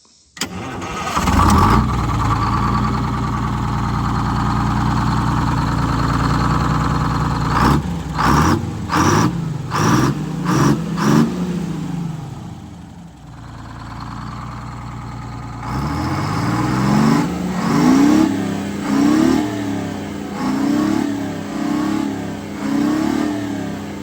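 A bus engine cranks and catches, settles into a loud, rough idle, then revs repeatedly in quick bursts before dropping back to a steady rumble and revving again, close up.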